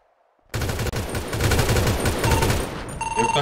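Rapid automatic gunfire in a video game, a loud sustained burst of closely spaced shots starting abruptly after a silent moment, followed by a few scattered trailing shots.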